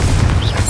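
A Confringo fire spell blast in Hogwarts Legacy on PS5: a loud, continuous booming burst with a rumbling low end and a fiery crackle, lasting under a second and heard on its own.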